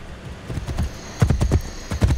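Horse hooves clip-clopping in Assassin's Creed Brotherhood, a steady galloping rhythm of close, punchy thuds that grows louder in bursts toward the end, with no voices.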